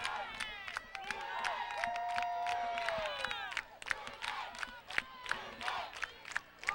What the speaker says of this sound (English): The crowd here on the visiting sidelines cheering on Blue Knights.